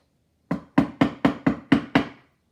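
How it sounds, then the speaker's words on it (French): Seven crisp knocks on a door sound in a steady, even rhythm, moderately close and alone with no voices. "frappa à la porte."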